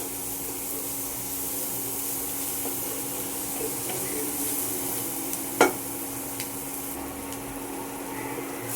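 Masala paste with turmeric sizzles steadily in a pan as it is stirred and fried for a doi katla fish curry, with one sharp scrape or clatter partway through and no talking.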